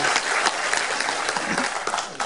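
Applause from an audience at a Turkish folk minstrel duel between male and female aşık singers, a brief dense burst of many hands clapping, steady and fairly close.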